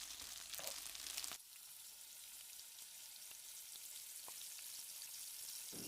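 Chow mein stir-fried in oil with a spatula, a steady soft sizzle of frying throughout with a few scraping stirs, no voices.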